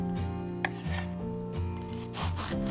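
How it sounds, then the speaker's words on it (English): A knife saws through a loaf of crispy no-knead sesame bread in close, rhythmic strokes, each one a crunchy rasp of crust. "Let's cut the bread and take a look"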